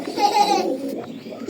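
A pair of Belgian racing pigeons coo indoors in a room, giving close, soft, throaty cooing that carries on with little break across the short moment.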